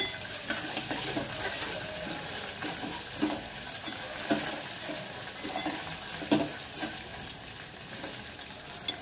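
Ginger paste sizzles in a pan while being stirred, the soft frying hiss broken by repeated scraping strokes of a spatula against the metal, close and moderately quiet.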